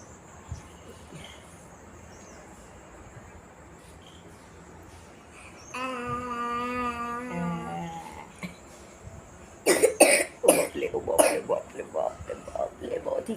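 A young child suffering from a heavy cough gives several harsh, close coughs in quick bursts near the end. A voice is heard earlier, with faint insect-like chirping in the background.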